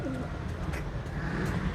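Soft, steady cooing of breeder pigeons in a loft, low continuous murmur under faint background noise, no voices.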